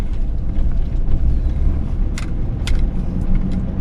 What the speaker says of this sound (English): Got another vehicle coming.